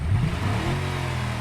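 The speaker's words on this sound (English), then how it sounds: "just rev it up, and then you can hear the difference." A car engine revs in neutral, heard from inside the cabin in a vehicle sandbox game, a low droning engine note that climbs briefly, then holds steady and humming for about a second.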